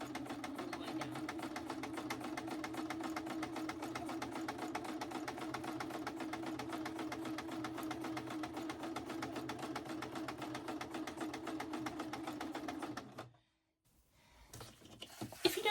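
A sewing machine stitching paper journal pages runs steadily with a fast, even mechanical whir for several seconds, then stops abruptly, followed by faint handling noises.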